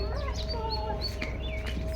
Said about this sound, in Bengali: আর ওই যে বাইরে হচ্ছে আমার খাসি মুরগিগুলো